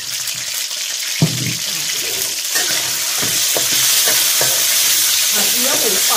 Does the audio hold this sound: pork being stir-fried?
yes